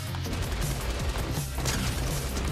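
Rapid game gunfire from an LMG in Fortnite, dense overlapping shots and impacts forming a continuous loud barrage throughout, with no talk.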